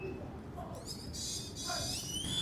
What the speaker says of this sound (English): Just hang on, listen to the birds